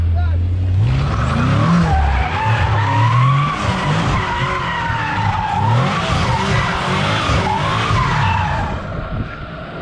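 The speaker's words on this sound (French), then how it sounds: "le moteur il allume les pneus direct" A tuned BMW M5 roars hard while its tires squeal and skid through a burnout, the engine surging up and down over a long screeching wail, close and loud, with voices talking beneath it.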